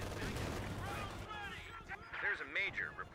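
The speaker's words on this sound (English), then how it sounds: "Oh, nice mortar hit." A mortar shell hits in the World War II strategy game Company of Heroes 2 during a 2v2 match on a wooded map: a muffled blast under a caster's voice, followed by chirping and whistling game effects.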